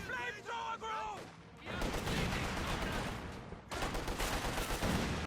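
DP light machine gun and PTRS anti-tank rifle fire in the WWII strategy game Company of Heroes 2, heard as dense bursts of overlapping gunshots that come in two long volleys after a brief voice at the start.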